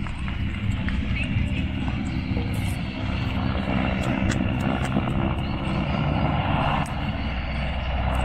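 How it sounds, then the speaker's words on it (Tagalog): A helicopter from Comox flies at the Cold Lake airshow, its steady rotor and engine drone running continuously over a crowd, with people chatting nearby throughout. "The Comox helicopter."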